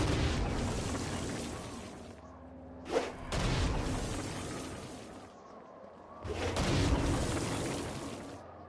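Stone Blast magic in Saints Row: Gat out of Hell sets off loud, booming game explosions in three long rumbling bursts, with a short sharp pop between the first two.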